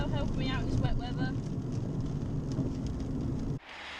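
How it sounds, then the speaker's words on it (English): Rain falls steadily outdoors in wet weather near a pub, a constant soft wash heard close by while someone talks over it at the start. "it's starting to rain again"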